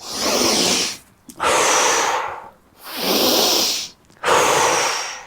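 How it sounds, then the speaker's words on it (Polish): Four long, loud breaths, slow and rhythmic, alternate inhaling and exhaling close to the microphone during a yoga-style exercise session seated cross-legged on a balcony among tomato plants. "Głęboki oddech."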